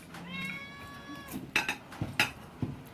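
A cat meows repeatedly in a kitchen while begging for food during meal preparation, several short close cries with soft clinks of dishes and cutlery in between.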